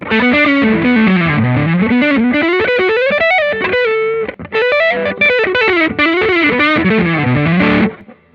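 Electric guitar on the neck pickup through a Dude overdrive pedal plays fast, fluid fusion-style runs, loud and saturated, with a brief pause midway.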